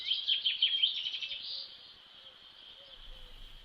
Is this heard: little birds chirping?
yes